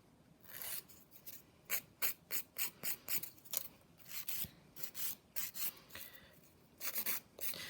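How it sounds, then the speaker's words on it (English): A hand nail file's 180 grit side rasps across a freshly applied acrylic nail in quick, repeated back-and-forth strokes, about a dozen short bursts close up and fairly quiet, with no talking. "So that was using the 180 grit side of the file."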